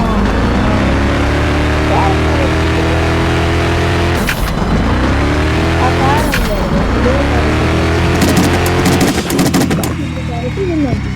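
Racing car engines roar loudly and continuously in a Dealership Simulator race, with layered rising and falling revving tones and sharp bursts of clatter near the end.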